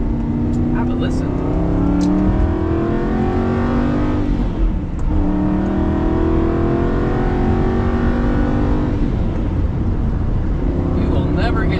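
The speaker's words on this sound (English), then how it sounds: "And the exhaust is just heavenly. Have a listen." A 2007 Aston Martin Vantage exhaust roars loudly from inside the car as it accelerates hard through rising gear pulls, with brief dips at the shifts before the engine note climbs again.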